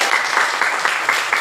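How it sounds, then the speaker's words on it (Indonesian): A classroom audience applauds a classmate with steady, dense clapping that continues throughout, close and fairly loud. "Berikan aplaus."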